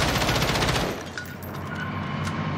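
Rapid automatic gunfire from a cheating player in the Warzone video game, loud steady bursts for the first second, then the shooting drops to a quieter, more distant rattle with sparse pops.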